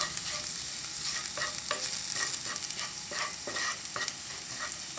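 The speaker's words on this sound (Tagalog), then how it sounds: "magigisa na po tayo. Ito po ang ating bawang." Garlic sautéing with a steady, close sizzle in cooking oil left over from frying salmon, with occasional stirring scrapes breaking through the continuous frying hiss.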